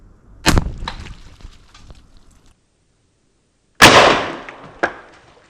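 Airgun shots strike a motorcycle helmet with a watermelon behind it, two loud sharp cracks separated by silence, each trailing into a brief scatter of debris.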